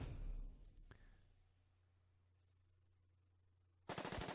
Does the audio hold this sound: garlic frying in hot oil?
no